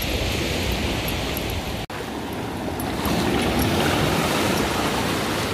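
Sea waves wash steadily onto the shore at the seaside, a dense, even roar of surf with a brief dropout partway through, loud and close with no voices.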